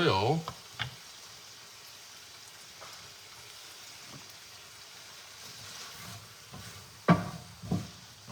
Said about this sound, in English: And we're stirring our green beans.